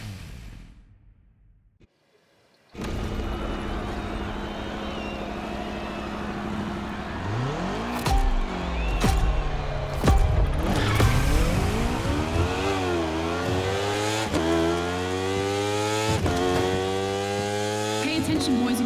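Motorcycle racing engines in the driving game The Crew Motorfest rev and climb through gears after a quiet start, a loud, buzzing, continuous whine with repeated pitch sweeps and shifts.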